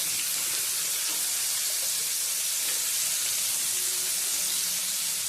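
Cut potatoes sizzling in hot oil tempered with dried red chilli and nigella seeds, a dense continuous hiss of frying that holds steady and loud throughout, close by, with no talking.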